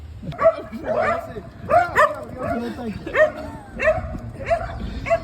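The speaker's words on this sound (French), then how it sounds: "Vilain chien." A dog barks and yips repeatedly close by, sharp rhythmic bursts mixed with whimpers, with a person's voice talking over it.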